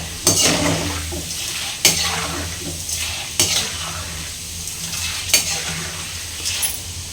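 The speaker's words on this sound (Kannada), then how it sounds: "ಇವಾಗ ಒಂದು ಸ್ವಲ್ಪ ಕಡಲೆಪಪ್ಪು ಆ ಎಣ್ಣೆ ಬಿಸಿಗೆ ಅಷ್ಟು ಮಾತ್ರ ಫ್ರೈ ಮಾಡ್ಕೊತೀನಿ" Chana dal fries in hot oil in a pan after the stove is switched off, with a steady sizzle under repeated loud spatula scrapes and clinks against the pan roughly every one and a half seconds.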